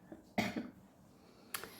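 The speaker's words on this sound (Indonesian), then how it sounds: "Maaf ya, aku batuk. Jadi berisik ya." A single sharp cough from a woman close to the microphone, followed after a pause by a smaller throat-clearing burst, in a quiet room.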